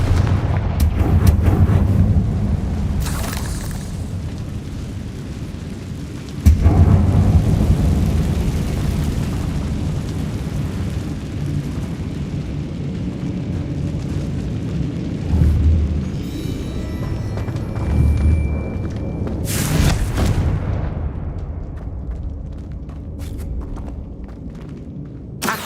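A Confringo spell explosion from Hogwarts Legacy lands as a sudden loud boom, followed by a long rumbling roar and later another sharp blast, all over heavy low game ambience.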